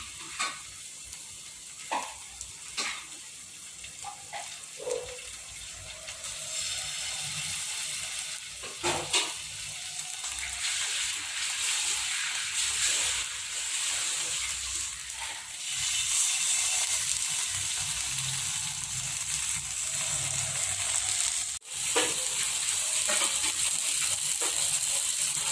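Fish frying in peanut oil on a flat dosa griddle, a steady close sizzle and crackle that swells and stays loud throughout, with occasional scrapes and clinks of a spatula turning the pieces.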